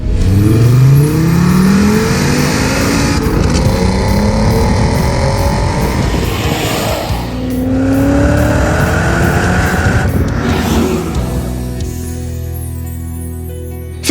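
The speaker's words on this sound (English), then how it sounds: "enjoy the story and soundtrack of the Volkswagen VR engine" Volkswagen VR-engine car (VR5 Bora, VR6 Audi TT or W8 Passat) revving and accelerating hard, rising engine tones sweeping up through several gear pulls, loud and close with a steady roar, no talk.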